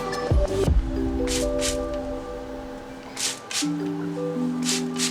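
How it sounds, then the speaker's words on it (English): A spray bottle spritzes in quick pairs of short hissing bursts, three pairs in all, over soft background music. "I'm going to take my water bottle and I'm just going to spray."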